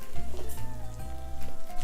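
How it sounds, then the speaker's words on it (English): A triple-cheese buffalo chicken grilled cheese sandwich sizzles in a frying pan, giving a close, steady crackling hiss with small pops and light clatter over a short stretch. "this is sizzling beautifully"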